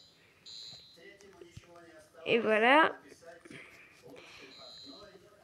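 A fire alarm rings through the Brookhaven shopping mall in the Roblox game, a loud, harmonic electronic tone lasting under a second amid a French speaker's talk.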